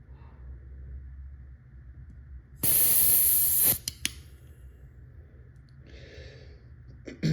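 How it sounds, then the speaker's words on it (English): Compressed air hisses from the tank valve of an Umarex HDP 50 airgun after the valve is cracked open slowly, a loud steady spray lasting about a second over quiet background rumble, followed by a couple of clicks and a fainter hiss. "That hiss you hear is because"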